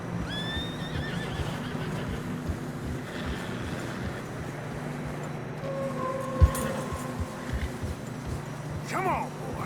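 Horses in deep snow in the video game Red Dead Redemption 2 whinny several times over wind noise and soft hoof sounds, with a voice speaking in the background.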